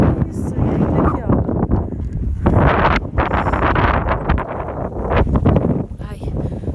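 Strong desert wind buffets the microphone, producing loud continuous rumbling gusts that swell and dip over several seconds, with a voice faintly heard beneath it.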